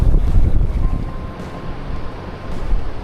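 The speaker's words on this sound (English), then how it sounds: "Non-stop flow of water." Rushing water and wind roar continuously around a boat off the Kimberley coast, a loud, broad wash with heavy low rumble and buffeting wind on the microphone, with no voices.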